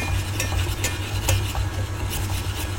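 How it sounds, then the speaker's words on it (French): Sugar syrup boiling rapidly in a saucepan on the stove, approaching 118 degrees, a dense continuous bubbling and sizzling hiss with scattered sharp pops and light clinks, close and steady. "on a une ébullition en fait qui est rapide"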